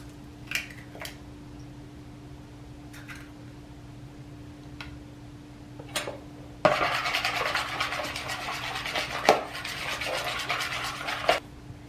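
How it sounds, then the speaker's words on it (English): An egg is beaten into wet ingredients in a bowl for an apple walnut cobbler. A few sparse clicks come first, then a steady, close scraping and tapping whisk runs on to the end. "the first thing that we need is 1 egg, so we're going to mix that in here first"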